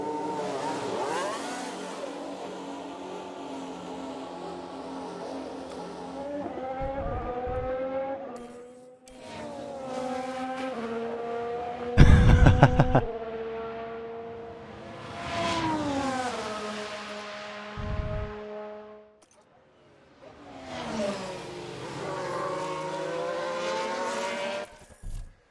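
An F1 car in the video game F1 Manager lapping the Bahrain track with the Haas F1 Team, its engine screaming through repeated rising gear pulls, with downshift blips and loud passes between brief lulls.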